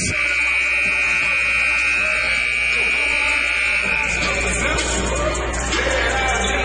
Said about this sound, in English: And there's a buzzer to bring him back.